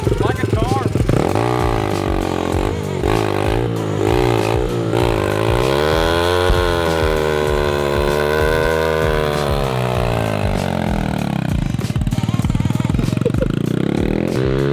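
A Honda budget motorcycle with an unhealthy, ticking engine runs loud and close, revving up and settling with a rough, buzzing note and some clatter throughout.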